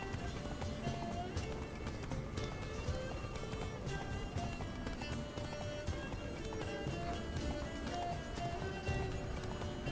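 A horse gallops in The Witcher video game, a fast run of clip-clop hoofbeats that stays close and dense from start to finish over a busy layer of game sound and music.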